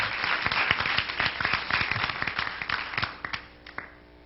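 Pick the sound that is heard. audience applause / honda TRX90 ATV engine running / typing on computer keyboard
audience applause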